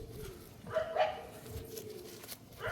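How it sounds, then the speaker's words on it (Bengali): Small Andhra pigeons coo softly nearby, a few low, rounded calls rising briefly over a quiet background with no talking. "এই দেখুন পায়রা, একদম ছোট্ট সাইজের পায়রা।"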